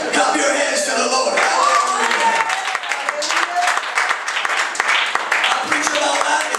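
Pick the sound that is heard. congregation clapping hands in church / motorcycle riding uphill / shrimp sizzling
congregation clapping hands in church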